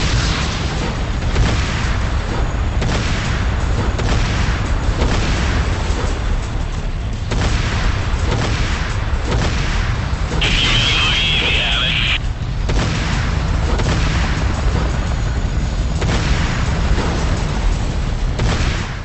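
Mammoth tank cannon fire in the Renegade video game, a dense, continuous barrage of heavy booming explosions, loud and close, rolling one after another throughout.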